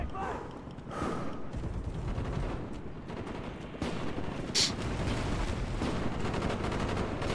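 Sniper gunfire in the video game Call of Duty Black Ops, a steady roar of battle noise with a few sharp shots cutting through, one brief crack standing out, under continuous game din.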